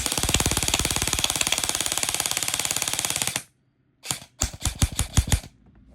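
Budget airsoft AEG rifle firing full auto with a 300-round metal magazine, a rapid, even mechanical rattle for about three and a half seconds, then a pause and several short bursts.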